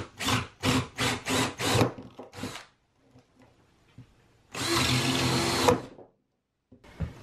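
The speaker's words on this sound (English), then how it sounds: "So I've got a rather large drill bit here. I'm just going to start pushing some holes through and see what happens." A power drill fitted with a large bit bores holes into a ram pump intake, sounding in a run of short, loud bursts followed by one longer sustained whine, with quiet gaps between.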